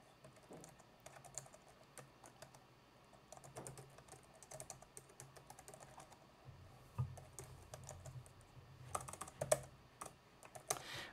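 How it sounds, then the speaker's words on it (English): Light, irregular clicks of typing on a computer keyboard while debugging Python code, quiet and close, with clusters of keystrokes and short pauses. "And you see how I'm typing a lot"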